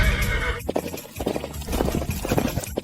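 A horse whinnies loudly and close by in a short shrill burst, followed by the thud and clip-clop of hooves moving.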